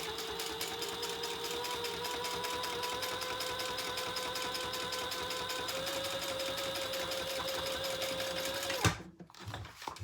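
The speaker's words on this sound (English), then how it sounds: "And then we're going to top stitch." A sewing machine top stitches a rounded make-up bag with a steady, fast mechanical whir and a rhythmic needle clatter running for several seconds before it stops abruptly near the end.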